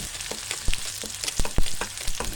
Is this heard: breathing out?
no